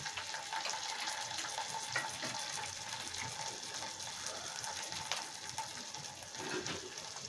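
A splash of water goes into a frying mustard and poppy seed paste in a pan for pabda fish curry, making a soft, steady rushing and bubbling sound at low volume.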